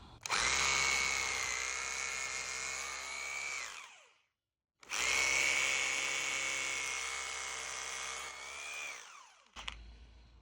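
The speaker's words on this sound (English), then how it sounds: "So we're going to drill some holes." A power drill whines at high speed drilling holes in a patio, in two long bursts of about four seconds each, separated by a brief silence, loud and close.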